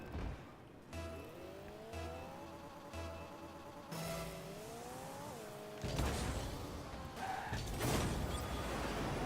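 Cars in a 2v2 car-soccer video game, engine tones rising and falling with revving and boosting, overlapping mechanical whooshes and impacts, fairly loud and continuous with no talk.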